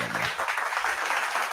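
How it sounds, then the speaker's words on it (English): A single person clapping during a wrestling podcast, a steady patter of quick claps that fills the short moment without talk over it. "I'm clapping at you. Clapping for you."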